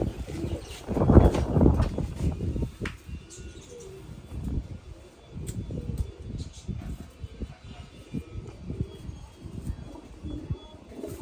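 Pigeons coo in soft, low, throaty bursts that repeat unevenly throughout, close by, with a louder rumbling coo near the start and faint chirps and rustling in the background.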